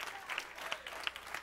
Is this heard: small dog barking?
no